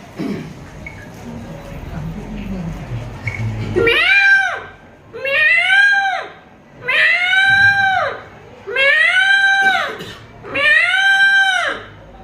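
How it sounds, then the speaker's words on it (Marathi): Five loud, wailing peacock calls repeat in a slow, even rhythm, each a drawn-out nasal cry separated by short pauses, following a stretch of quieter background noise. "आता मोराचा आवाज"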